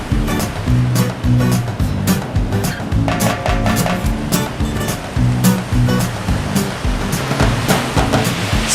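Ocean waves break steadily at Lagundri Bay, Indonesia, a loud continuous surf roar alongside a rhythmic, repeating musical beat.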